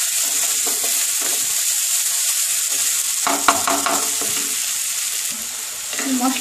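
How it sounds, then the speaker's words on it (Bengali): Spice masala fries in a pan with a steady, close sizzle while a utensil scrapes and stirs, giving bursts of scraping and clinks in the second half. "মশলাটা ভাজা হয়ে গেছে,"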